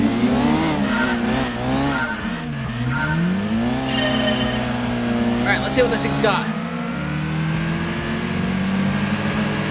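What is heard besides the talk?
race car engine and tire squeal, video game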